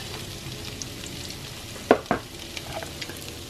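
Steady, soft sizzling of cottage cheese pancakes (syrniki) frying in a pan, with a couple of brief clinks partway through and no voices.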